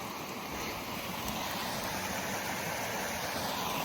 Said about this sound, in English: We gotta stop and appreciate the waterfall.